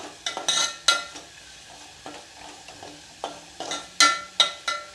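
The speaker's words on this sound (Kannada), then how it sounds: "ಇನ್ನೂ ಒಂದು ಸ್ವಲ್ಪ ಫ್ರೈ ಮಾಡ್ಕೊಳ್ಳೋಣ ಇದನ್ನು ಈರುಳ್ಳಿದು ಹಸಿ ವಾಸನೆ ಎಲ್ಲ ಹೋಗಬೇಕು" Onions sizzle in a pan for Udupi-style idli, vada and sambar, with a spoon scraping and stirring in irregular bursts over a soft frying hiss.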